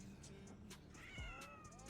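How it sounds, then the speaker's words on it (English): A cat meows in World of Warcraft, a drawn-out rising and falling call near the end, over a steady bed of game ambience and music. "Do you hear the cat was like meow?"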